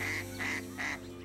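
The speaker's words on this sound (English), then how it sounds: "Oh, what's up, Mrs. Duck?" A duck quacks three times in a quick, honking rhythm, moderately loud over a faint background hum, with no talk.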